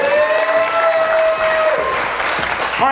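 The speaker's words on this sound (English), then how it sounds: "Give all my volunteers a big round of applause" A church congregation applauds the volunteers during a sermon. The clapping and cheering are loud and dense, with a sustained musical tone running under the crowd noise.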